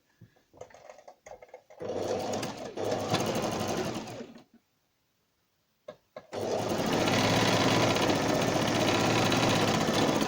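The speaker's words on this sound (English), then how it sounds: "Now I'm going to sew the other strip just like the one I stitched already, and here I'm going to start my sewing." A sewing machine stitches a placket strip in two long runs, a close, steady mechanical whirr broken by a short stop, with a few brief handling noises at the start.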